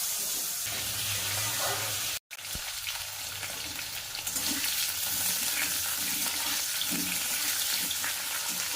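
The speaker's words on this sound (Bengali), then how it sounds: "ফুলকপি আলুগুলো ভাজা করে নেব এই তেল দিয়ে" Cauliflower and potato pieces frying in oil, a steady close sizzle running throughout with a brief drop partway, no talking.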